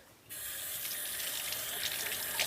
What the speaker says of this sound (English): Rinse off your hands.